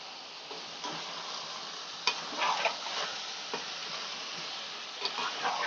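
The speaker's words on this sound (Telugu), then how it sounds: "ఇలా కొంచెం ఫ్రై అయిన తర్వాత బంగాళదుంపలు వేసుకోవాలండి." Chicken and potato pieces fry in a pan with a steady, close sizzle, and a utensil scrapes and stirs at scattered moments. No one speaks.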